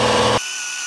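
A power grinding tool shaving down the smog ports on the back of a cylinder head, a loud dense whine that cuts off abruptly partway through, leaving a quiet hum.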